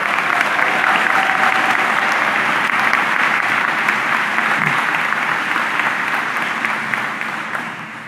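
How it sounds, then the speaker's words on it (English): An audience at a Montgomery County Community College commencement ceremony claps loudly and continuously, a dense, sustained wash of applause that tapers slightly toward the end. "Give them a round of applause."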